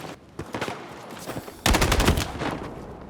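Rapid automatic gunfire in Battlefield 6, quick bursts of sharp cracks that grow louder and denser midway, close and unbroken by talk.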